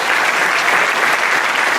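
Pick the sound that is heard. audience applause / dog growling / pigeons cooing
audience applause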